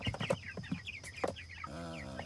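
Hens clucking inside a homemade chicken tractor, a run of close, bright clucks and short squawks, then one sustained, nasal call toward the end.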